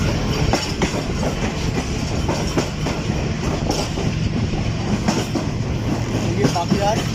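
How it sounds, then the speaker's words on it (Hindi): The rake of the Rehman Baba Express, the train involved in an accident near Meting station, rolls along the rails with loud, steady clickety-clack and wheel noise throughout, passing close by. "ये रहमान बाबा एक्सप्रेस का बताया रेट है, यानी कि कल वाली एक्सीडेंटल ट्रेन है ये"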